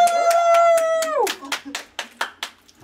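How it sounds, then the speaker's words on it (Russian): Hands clap several times in a loose, uneven rhythm, sharp and close, following a long held vocal note. "Просто хлопай, все."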